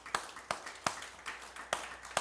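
A church congregation claps, giving sharp separate hand claps in a loose, uneven rhythm that is fairly faint and a little distant, with no talking over it.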